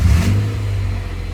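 A Honda Civic with a B16A2 engine runs, its low, steady engine rumble loud and close throughout, with no clear rise in revs.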